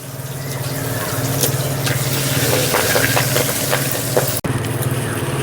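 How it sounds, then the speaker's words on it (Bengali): Tangra fish fry in hot mustard oil, a loud, dense, continuous sizzle with occasional stirring clicks close by and no talking. "এবার একেবারে আমরা সব মাছ ভেজে নেব।"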